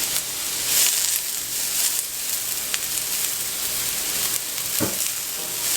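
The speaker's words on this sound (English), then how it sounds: "I'm going to add in some onions." Half an onion fries in a little oil in a pan, a steady, close, crackling sizzle that carries on throughout with a few brief stirring scrapes.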